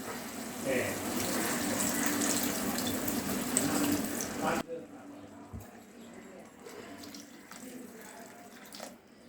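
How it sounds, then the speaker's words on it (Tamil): Water poured into a pan of Peshwari mutton gravy gives a loud, steady splashing rush for the first half, then cuts off, leaving quieter kitchen clatter and faint background noise. "இப்போ நம்ம 2 கிளாஸ் தண்ணி ஆட் பண்ணிக்கலாம்."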